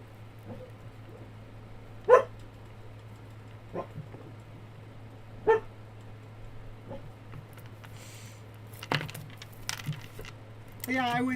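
Dog barking in a quiet room, a few scattered short barks and yips at moderate distance over a steady low electrical hum, with some soft clicking and a brief voice near the end.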